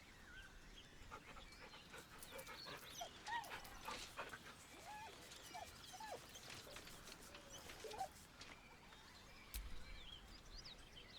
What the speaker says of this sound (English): deep, heartbroken whine, the dog bows his head. The dog whimpers nervously